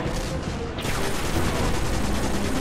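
Dense, continuous gunfire and explosive blasts in the Destiny video game, loud and unbroken, forming a chaotic wall of combat noise throughout.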